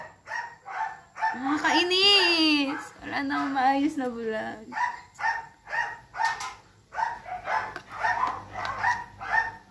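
A noisy small dog barks repeatedly in sharp, close bursts mixed with whiny yips, while someone talks over it indoors during a get-ready-with-me session.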